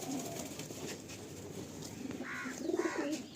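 A Madrasi pigeon gives soft, low coos, a short one at the start and a pair of rolling coos near the end, faint against a quiet background.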